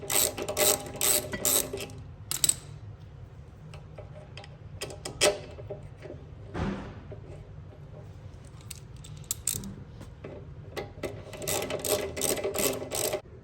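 A ratchet wrench tightening a bolt on a motorcycle disc brake caliper, with quiet bursts of rapid clicking separated by pauses, plus a few handling knocks and clinks close by.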